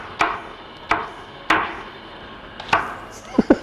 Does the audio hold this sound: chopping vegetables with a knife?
yes